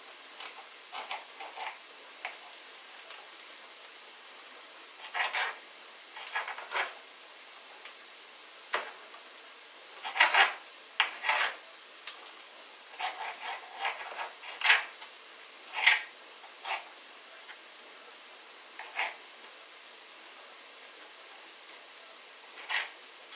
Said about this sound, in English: I'm just chopping up this bit.